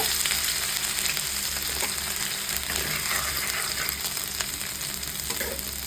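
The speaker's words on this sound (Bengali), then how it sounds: "আদা কুচিটা হালকা ভেজে নেব" Chopped ginger fries lightly in hot oil for chana dal, giving a steady, close sizzle with faint crackles and stirring that runs unbroken the whole time without any talking.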